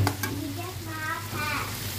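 Tomatoes sizzle steadily in a hot frying pan while being stirred, a continuous close frying hiss with faint scraping, cooked as part of bitter melon with egg.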